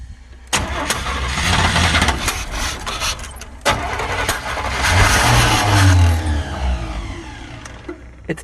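An old van's engine cranks loud and close, catching and sputtering as it tries to run roughly, with bursts of revving and uneven idling between sharp clunks; no one speaks.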